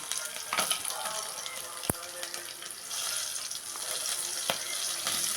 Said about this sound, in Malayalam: കുറച്ച് നേരം അത് മൂക്കട്ട് ഇടുന്നു ഈ അണ്ടിപ്പരിപ്പും സവാളയും